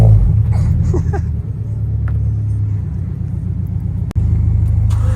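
A car pulls up with its engine running, a loud steady low rumble close by that holds for several seconds, with a brief cut near the end and faint voices in the background.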